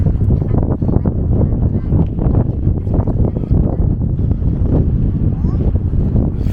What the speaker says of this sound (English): Very, very windy here.